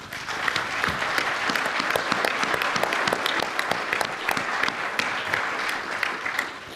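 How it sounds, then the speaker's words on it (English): A large audience at an evening event breaks into a loud, sustained round of applause, a thick wash of many hands with individual sharp claps standing out, holding steady from start to finish. "Please join me in a round of applause."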